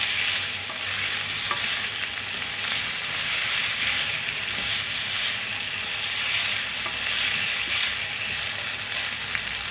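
Chicken frying in a pan for a chicken-vegetable macaroni, giving a dense, steady sizzle that holds close and even throughout with no pauses.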